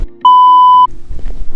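A single steady censor beep tone, loud and clean, runs for just over half a second, cutting in abruptly and stopping sharply before faint low murmuring resumes.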